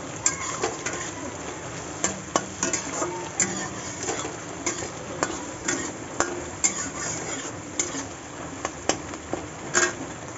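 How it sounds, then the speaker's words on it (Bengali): Shidol, a fermented dried fish, fries with onions in a pan, giving a steady low sizzle broken by frequent sharp clinks and scrapes of a utensil against the pan, close and fairly loud. "শীতলগুলারে আমি ভালো থেকে একটু ভাজি"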